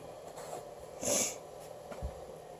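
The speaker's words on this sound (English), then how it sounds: "you have to excuse my sniffles too" A single short, wet sniffle from a person recovering from flu stands out against a quiet background hiss, followed moments later by a softer breathy snuffle.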